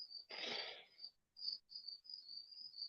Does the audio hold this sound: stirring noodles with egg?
no